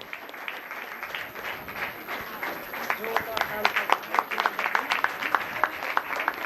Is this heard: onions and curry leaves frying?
no